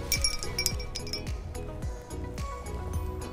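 Glasses clink together repeatedly in a close, bright toast, several sharp chimes in quick succession during a snack-and-tea gathering, with faint talk in the background.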